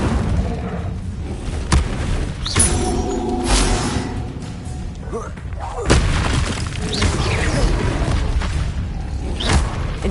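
Incendio fire spell blasts in the Hogwarts Legacy video game, a run of loud booming bursts and crackling whooshes spread over ten seconds, with battle noise and faint voices mixed underneath.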